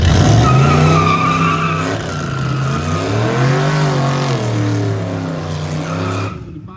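Loud, close engine roar of a car launching at a drag strip during the Hot Rod Power Tour, its revving pitch rising and falling steadily with tire squeal mixed in before cutting off abruptly.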